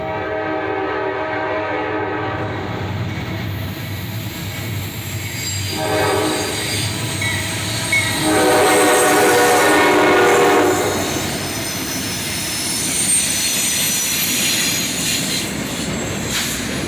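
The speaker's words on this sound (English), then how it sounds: "The next week, we'd catch this pair of EMDs," A pair of EMD diesel locomotives rumbles past up close, the leader running long hood forward, sounding loud sustained horn blasts over heavy engine roar, with wheel squeal and rail clatter as the train goes by.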